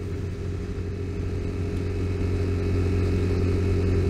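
A Vespa scooter rides steadily downhill, its engine a continuous, loud close rumble that swells slightly toward the end, with no talking.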